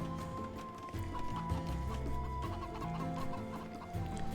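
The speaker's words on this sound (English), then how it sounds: "trying to push the chickens around" Chickens clucking and squawking in an AI tournament match of a strategy video game, several birds in a busy overlapping chorus with game music and ambience underneath.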